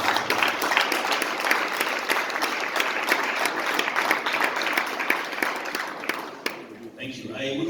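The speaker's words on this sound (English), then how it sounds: "it's important that we give our guests a big round of applause" Sustained applause from an audience honoring guests at a talk in Jos, Plateau State, steady dense clapping for most of the stretch, then thinning and fading out near the end.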